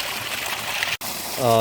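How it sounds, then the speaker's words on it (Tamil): Water gushes steadily from the pipe of a 3000W BLDC borewell motor pump, a broad continuous rush with someone talking over it and a brief dropout near the middle. "ஐநூறு அடி ஆழத்துலேருந்து லாங் வந்து தண்ணி நல்ல பைப்பில் வந்து ஊற்றிட்டுருக்கு"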